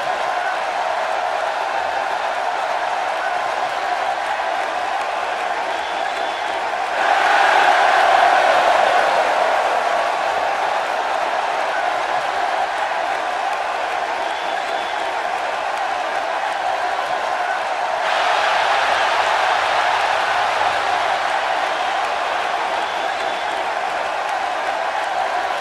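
Virtual arena crowd in WWE 2K16 roaring for Booker T's entrance: a continuous dense wash of cheering and applause with two noticeable surges in volume, no speech over it.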